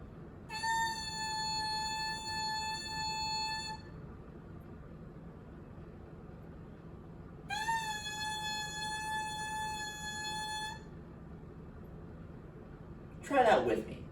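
Two long sustained tones on an oboe reed alone, each held about four beats with silent rests between, the second starting with a slight pitch scoop, then a brief squeak at the end.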